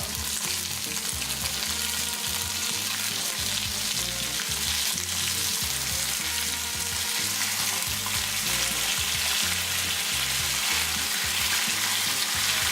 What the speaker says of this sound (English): I'm just going to lay these pieces of salmon right in there